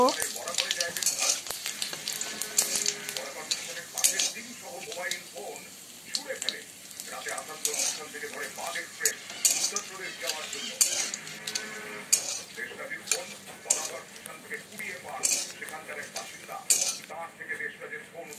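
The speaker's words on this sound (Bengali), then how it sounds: "সমস্ত মশলাগুলো একটু নেড়ে চেড়ে নেব।" Dry red chillies, white cumin and torn bay leaves sizzle and crackle in hot oil as a spoon scrapes and stirs them around a pan, with irregular metallic clinks over a steady frying hiss.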